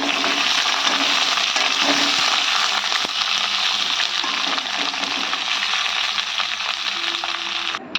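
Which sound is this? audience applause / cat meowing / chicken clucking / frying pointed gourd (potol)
frying pointed gourd (potol)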